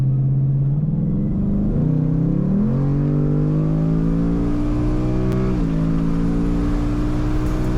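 A one-of-one Saleen Mustang's engine revs up loud and close, its deep harmonic drone climbing in pitch through several rising sweeps, then easing back briefly before climbing again.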